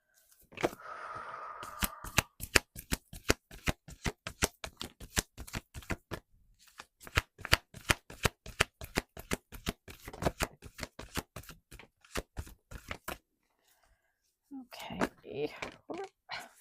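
Wisdom of the Oracle card deck being shuffled, rapid crisp riffles and snapping cards in quick repeated bursts, close and clear, with a voice speaking briefly at the start and end.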